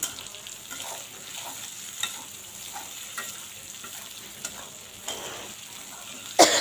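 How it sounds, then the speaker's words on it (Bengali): Steady sizzling of soya chunks frying in hot oil in a kadai, with soft stirring scrapes now and then and a louder clunk at the end; no voices. "এখন সয়াবড়িগুলো ভেজে নেব"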